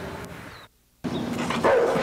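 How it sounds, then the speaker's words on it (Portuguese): A dog on a city street barks a few times, loud and close, with a short dropout mid-clip and a high whimper-like yelp near the end. "Por que esse cachorro latiu pra mim?"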